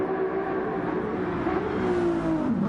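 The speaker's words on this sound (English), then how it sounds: "Oh, I think I hear someone driving out." A Ferrari race car pulls out in a racing game at Le Mans, its engine whirring and revving steadily with a rising, then falling pitch, loud and continuous with no talk.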